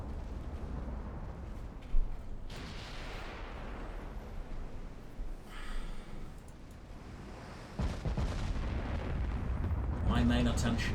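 Naval guns firing in the warship game Ultimate Admiral Dreadnoughts, a few deep booming blasts spaced apart over a low continuous rumble of sea and battle ambience, the loudest shot early and heavier noise building near the end.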